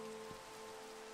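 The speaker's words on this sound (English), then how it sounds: "I am digging this rain though. The rain is really nice. It's just a little chill and soothing." Rain falls softly and steadily in a video game, a faint, even patter with a low background hum and no voices.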